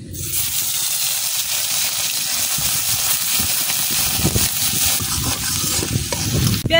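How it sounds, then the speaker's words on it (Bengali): Onion paste frying in oil left over from frying pabda fish, a steady bubbling sizzle with soft stirring scrapes, close and continuous with no voices. "এখন মাছ ভাজার তেলের মধ্যে দিয়ে দেন পেঁয়াজ বাটা।"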